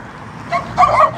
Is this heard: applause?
no